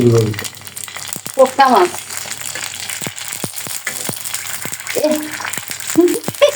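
Fuchka puri dough balls deep-fry in hot oil with a close, busy crackling sizzle and sharp pops throughout, while a voice speaks briefly now and then.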